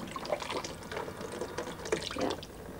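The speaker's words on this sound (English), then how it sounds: "Now all you do, rinse it in water." Water runs and splashes steadily with small drips and sloshing, like something being rinsed under a tap, with no talking.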